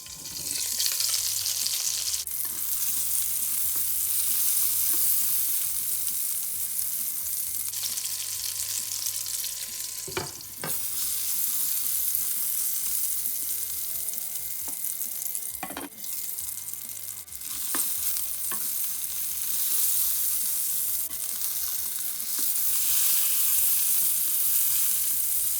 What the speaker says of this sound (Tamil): மெல்லமாக கிண்டி பொரிக்க வேணும்.